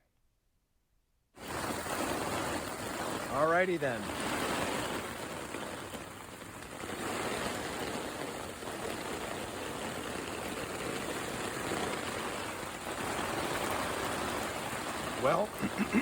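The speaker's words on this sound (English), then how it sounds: "there was more rain." Heavy rain falls outside a tent in a constant close hiss of drops, with someone briefly speaking a few words partway through and again near the end.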